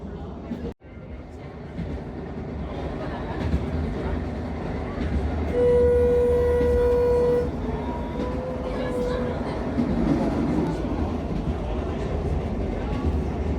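A narrow gauge train in Sweden rumbles steadily along the tracks, with a sustained horn-like tone partway through and a constant low mechanical drone throughout.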